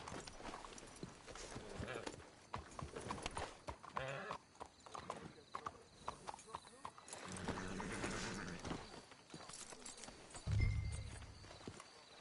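Horse hooves clip-clop steadily at a walking pace in Red Dead Redemption 2, with a horse whinnying briefly near the end and people talking over the sound.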